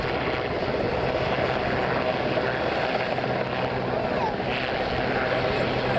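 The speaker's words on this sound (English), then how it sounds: "the helicopters from 846 Naval Air Squadron" Helicopters of 846 Naval Air Squadron fly over Shoreham Airshow, a continuous loud rotor and engine roar with steady intensity throughout, somewhat distant, with a commentator's voice over a public address.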